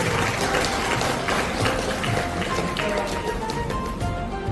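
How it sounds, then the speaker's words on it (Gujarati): Audience at a Gujarati community honour ceremony in Vadodara applauding young performers, a dense, steady wash of many hands clapping that fills the room and stays loud throughout. "એકવાર ફરી તાળીઓથી આપણા નાના પૂજાઓને વધાવી લઈએ."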